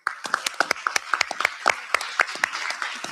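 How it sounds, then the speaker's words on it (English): Audience applause for award winners at a Board of Education public meeting: a scattered run of individual hand claps, fairly close and moderately loud, continuing steadily for a few seconds with no voices over it. "Let's give one more round of applause for Lexi."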